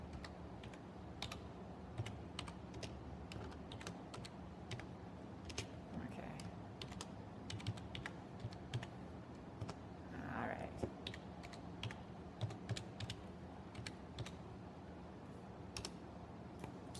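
Someone types a username on an office computer keyboard, producing a close run of irregular key clicks with a brief, faint murmur of voice partway through.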